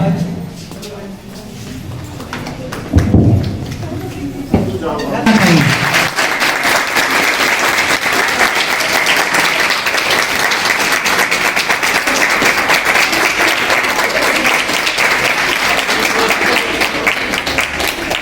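Audience applause at a school event honoring a woman, starting after a brief stretch of voices and a few thumps, then loud, dense clapping that holds steady and close for the rest of the clip.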